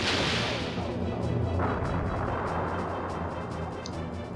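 Wevel Cannon firing in the video game Skies of Arcadia Legends, a loud booming blast with a broad noisy burst that decays into a rumbling tail.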